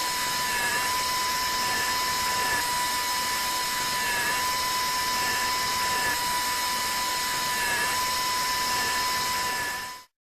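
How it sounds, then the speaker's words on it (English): Dental implant drill bores a 3.5 mm hole at reduced speed, a steady high-pitched whine holding a constant tone for about ten seconds before stopping abruptly. "Having controlled the depth, we perform drilling, decreasing rotation by 150 units."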